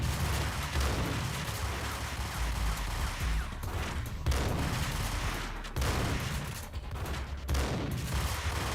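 Gunfire in the video game Max Payne, a dense, sustained barrage of shots with heavy low rumble, loud and continuous with brief dips between volleys.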